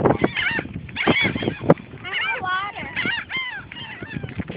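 Geese or similar fowl honk and squawk repeatedly at close range while being fed on a beach, the calls overlapping with people talking nearby.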